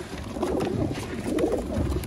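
Caged pigeons kept in separate pens cooing continuously at close range, a low soft murmur of several birds overlapping with no voices.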